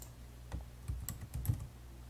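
Typing on a computer keyboard to enter citation details, a short burst of a few soft, close key taps in quick clusters over a quiet background.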